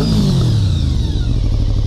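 A 1991 Honda VFR750F motorcycle with a loud aftermarket Yoshimura exhaust revs and rumbles up close, a deep throaty roar holding steady throughout.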